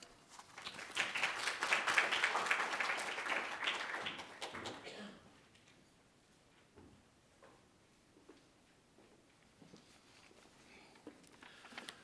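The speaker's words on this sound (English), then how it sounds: "let's give a warm round of applause for Chuck" An audience at a flash fiction reading gives a warm round of applause, a loud burst of clapping for about five seconds that fades to quiet with a few scattered sounds after.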